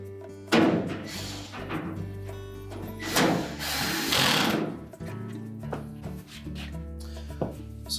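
A power screwdriver drives a single screw into a support bracket on a GE dryer during a blower wheel replacement. Short whirring bursts come through close by, mixed with handling clunks and knocks.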